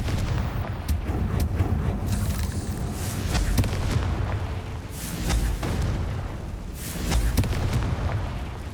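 Repeated booming blasts of the Confringo explosive spell in Hogwarts Legacy, loud and close, landing at irregular intervals over a continuous low rumble.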